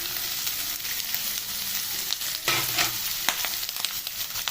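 Chicken skin fries with onions in a hot pan, a continuous close sizzle with occasional stirring scrapes and a brief surge of hissing partway through.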